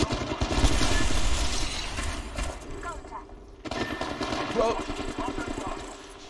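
Dense automatic gunfire rattles through an Apex Legends arena match, loud and close in two long stretches with a short gap between them, while someone speaks over it.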